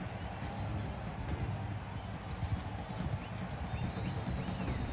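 Cavalry horses gallop in Mount & Blade II: Bannerlord, a dense continuous clatter of many hooves with a faint whinny, at moderate volume throughout.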